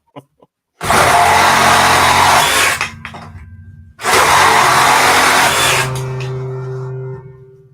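A cordless reciprocating saw, FLEX or DeWalt, cuts through wood held with one hand in two loud sustained bursts of buzzing, rasping strokes, the first about two seconds, the second slightly longer and tapering into a lower motor whine.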